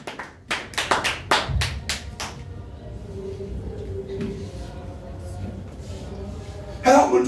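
A church congregation claps for Jesus during a sermon: a run of sharp, separate handclaps close by for about two seconds, then a low murmur of voices and hum, with a brief louder clatter near the end.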